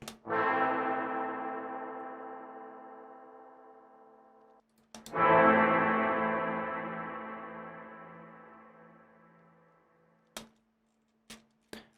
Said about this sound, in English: Here is the Strymon spring reverb.